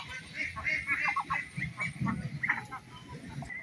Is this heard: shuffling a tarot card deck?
no